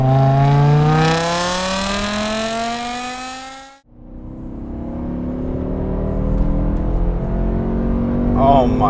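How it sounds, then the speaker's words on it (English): BMW M5 with the S85 V10 engine and carbon intakes revving hard, rising to a loud high wail, cutting out abruptly, then building again through a climbing rev, close and strong. "it was time to let the V10 sing"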